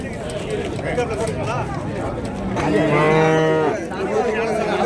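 Cattle at the Vaniyambadi livestock market lowing, one loud drawn-out moo rising above a busy background of crowd chatter and other animals close by.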